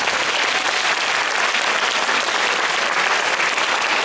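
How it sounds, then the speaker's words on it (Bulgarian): Audience applause at a children's gala concert in Ruse, a dense, steady roar of clapping filling the hall, loud and unbroken with no voices over it. "Аплодисменти още малко."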